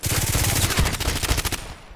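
Rapid close pistol fire in the online shooter Contract Wars, a tight burst of about a dozen sharp shots in quick rhythm over under two seconds, then fading out.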